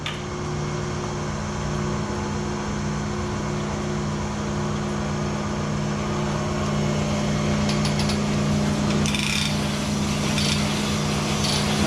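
Honing machine working a Ford 302 engine block, giving a steady, loud mechanical drone with a constant hum and faint scraping overtones. It runs unbroken throughout with no voices.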